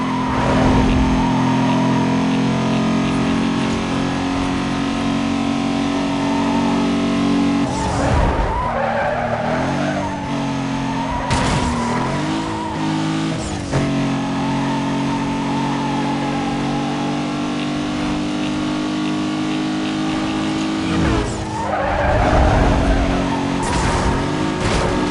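Audi race car in Need for Speed Most Wanted roaring at sustained high revs, loud and close, with repeated tire skids and squeals as it shifts and slides, no talk over it.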